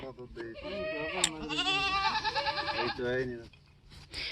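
A male goat bleats in long, wavering, quavering cries, close and loud, with voices murmuring around it at a goat market in Muktsar, Punjab.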